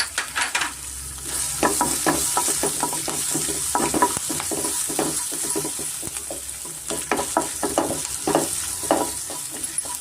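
Grated ginger, green chillies and curry leaves fry in a little oil over a medium flame, a steady close sizzle punctuated by frequent rhythmic spatula scrapes and clicks, with no talking.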